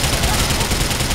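Rapid, dense gunfire from a GTA game, a sustained burst of shots at close range and high volume, with speech mixed in.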